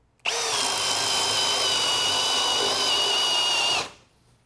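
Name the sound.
power drill with self-feeding bit boring into wood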